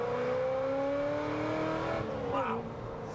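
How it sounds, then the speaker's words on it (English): A loud American race car engine revs hard and steadily, its rising pitch holding strong for about three seconds with a brief shift near the end. "So for me, this car is very loud."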